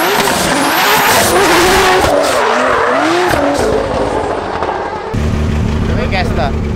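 A Nissan Skyline with an RB30 engine driven hard, the engine revving loudly and rising and falling while the tires squeal in repeated sweeping bursts, continuous and close throughout.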